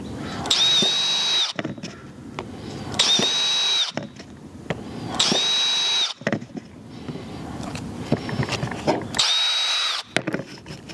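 A power drill whines through four separate drilling bursts, boring feeding-port holes in a hummingbird feeder base held on scrap, each a couple of seconds long with short pauses between, loud and close.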